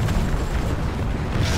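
A heavy, booming tank cannon impact in War Thunder strikes the player's tank, a loud low rumbling blast that fills the moment with no speech over it.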